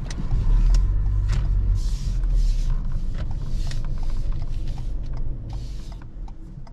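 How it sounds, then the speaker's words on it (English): A car reverses slowly for about two car lengths on a roadside during a driving-test manoeuvre, with a steady low engine rumble and faint mechanical creaks, close and continuous with no talk. "and then reverse two car lengths"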